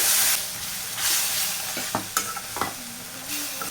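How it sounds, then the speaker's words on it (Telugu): Masala sizzles and hisses steadily in a hot pan, frying for an egg curry, with a few sharp scraping knocks of a spoon stirring through it. "ఇప్పుడు ఈ మసాలాను కూడా పచ్చివాసన పోయేంత వరకు అయితే ఫ్రై చేసేసుకుందాం"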